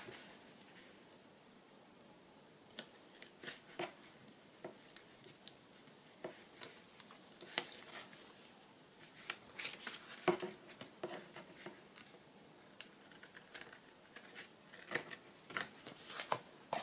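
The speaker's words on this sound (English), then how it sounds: "Let me just trim this at the top here." Scissors trimming paper for a Christmas journal collage, giving a series of close, crisp snips and paper rustles in an irregular rhythm with short pauses, growing busier toward the end; no talking.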